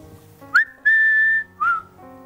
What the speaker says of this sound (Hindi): बेकरा की सीटी बजाओ ना।